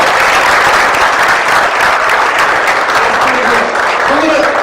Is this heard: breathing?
no